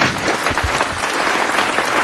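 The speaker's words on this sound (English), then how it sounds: "a great round of applause for Claudia" Audience applause at a city council meeting, a full, close round of many people clapping steadily and loudly throughout, with a faint murmur of the crowd underneath.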